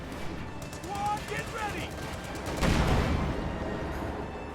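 In a World War II strategy game, an anti-tank gun fires at a Panzer IV with a deep boom amid rattling gunfire and battle noise, under steady commentary.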